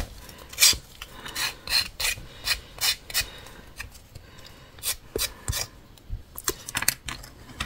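A hand file rasps back and forth over a rough edge to smooth it, giving a steady series of close, loud scraping strokes with short pauses between them and no talking.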